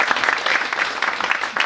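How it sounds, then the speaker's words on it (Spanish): A crowd at a magic show bursts into lively, close applause for a volunteer called up from the audience, dense clapping continuing throughout without a break. "un aplauso para Abel."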